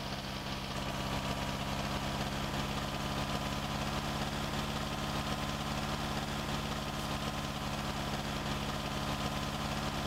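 Niva SK-5 combine harvester engine idling in Farming Simulator 19, a steady, continuous low mechanical drone with even vibration throughout, no voices over it.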